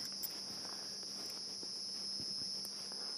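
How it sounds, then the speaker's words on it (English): Redback cicadas call at sunset on an African safari, a steady high-pitched shrill drone that sounds continuous and fairly distant, with faint background noise beneath. "I think they sound like redback cicadas"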